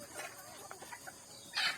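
Kadaknath chickens on a newly started farm give a few faint, short clucks, quiet and somewhat distant against light background noise.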